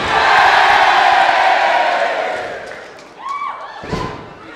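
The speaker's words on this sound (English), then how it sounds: "everyone booing Jack Bonza and cheering Mick Moretti" A large crowd at a professional wrestling event roars with mixed boos and cheers as the wrestlers are introduced, loud at first and fading, with a few sharp whoops and a thud near the end.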